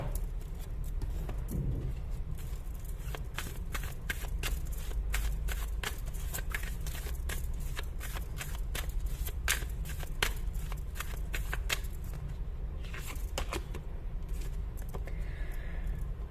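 Oracle cards shuffled by hand for a tarot reading, giving a steady, close run of crisp riffling flicks and slaps that lasts throughout over a low background hum, with no talk.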